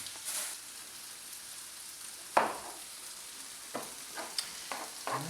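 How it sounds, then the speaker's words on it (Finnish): A tomato is chopped with a knife on a cutting board for a tofu salad, giving a few sharp, separate knife taps over a quiet, hissy background. "Näin toimii ammattimainen tomaatin pilkkoja."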